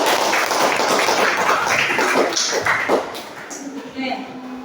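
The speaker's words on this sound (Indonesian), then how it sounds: "Tepuk tangan dulu untuk kelompok 5." A school class applauds a student group: dense, noisy clapping from many hands fills the room, fairly loud and steady, with voices murmuring underneath as it starts to fade near the end.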